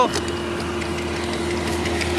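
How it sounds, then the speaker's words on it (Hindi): A farm tractor in a village drives past, its engine giving a steady mid-level rumble and hum, with someone talking over it throughout. "ये जा रहा है ट्रैक्टर फांडे में जा रहा है"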